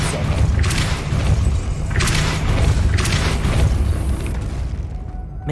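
Depulso repelling spell cast in Hogwarts Legacy, a series of deep booming thumps with whooshing bursts, roughly four pulses over steady low rumble, fairly loud and close.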